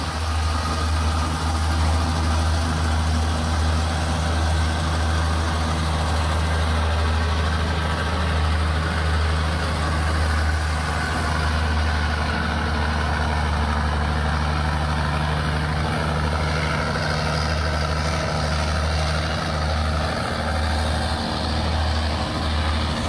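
A MAN tractor truck engine runs steadily, a deep constant rumble with a low throb and broadband mechanical noise, close and unbroken throughout with no talk.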